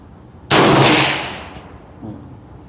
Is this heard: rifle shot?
yes